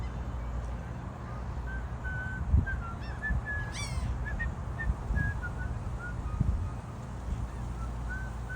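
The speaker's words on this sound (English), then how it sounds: "Oh, this is whistling." A person whistling outdoors, with short, thin, steady notes repeated at intervals and one quick rising trill, fairly faint over a low rumbling background with a few soft thumps.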